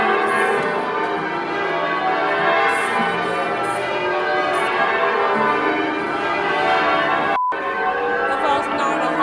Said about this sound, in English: we need to make it louder because of the bells